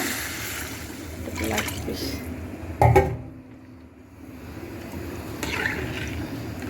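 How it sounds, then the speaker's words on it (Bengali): Water is poured by eye into fried rice for pulao, making a liquid splashing fill over a few seconds as someone speaks over and around it. "এখন আন্দাজ মতন পানি দিয়ে দেবো।"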